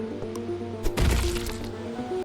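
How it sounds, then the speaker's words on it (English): A fleshy, wet crunch as a fist strikes a robot enemy in the video game Refind Self, one sharp hit followed by a short squelching tail over a steady tonal game backdrop. "why does it make this weird fleshy sound when I punch it?"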